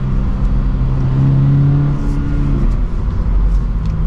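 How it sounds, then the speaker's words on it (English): A manual sports car engine runs with a steady, close low drone, its pitch briefly rising and falling as it is revved, with no talking. "They're both super easy to rev match too."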